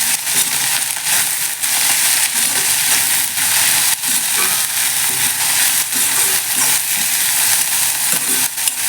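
Mint and coriander leaves sautéing in a pan for mint rice, a continuous loud sizzle with crackles and the occasional scrape of stirring.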